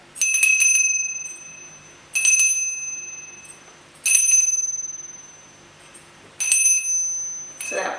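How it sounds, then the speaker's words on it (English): A small silver witch's bell with a pentacle at the top and a lightly engraved body rings four times, each a bright, clear strike with a sustained high tone that decays slowly, close and alone. "There's just a nice little silver witch's bell."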